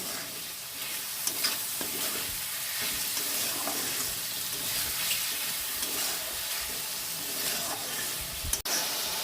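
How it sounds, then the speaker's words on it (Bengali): Onions frying in a pan for chicken curry, a steady close sizzle and hiss with occasional stirring scrapes, running unbroken and alone throughout. "এখন পেঁয়াজটাকে একটু লাল লাল করে ভেজে নিতে হবে।"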